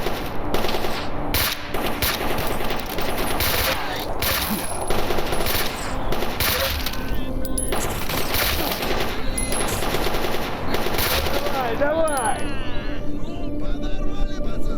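Submachine gun fire in the video game Stalker Anomaly, set in the Red Forest: dense rapid bursts of loud automatic shots crackle almost continuously, close and sharp, with a voice briefly audible.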